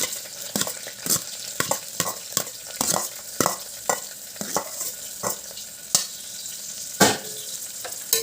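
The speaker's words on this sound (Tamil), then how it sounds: "நல்லா வதக்கிக்கலாம்." Onions, green chili and fennel sizzle in a hot pan while a spoon scrapes and stirs in repeated clinking strokes, a steady frying hiss beneath.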